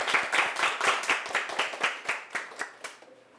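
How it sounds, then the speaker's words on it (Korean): A lecture audience applauds a speaker's former students, a dense burst of close hand claps that thins and fades out over a few seconds. "박수 한번 쳐줄까요, 이 친구들한테?"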